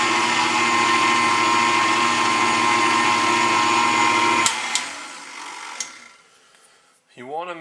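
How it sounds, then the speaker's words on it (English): An electric mixer beats egg yolks with confectioner sugar for eggnog, holding a steady loud whirring drone for about four seconds before cutting out with a few clicks. A voice starts speaking at the very end. "our egg yolks are in the mixer"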